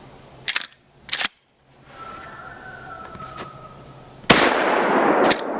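A Federal 12 gauge 2 3/4 inch slug is fired at a ballistic plate, giving a sharp, loud blast with a short crack, and a few sharp clicks and a faint tone come earlier.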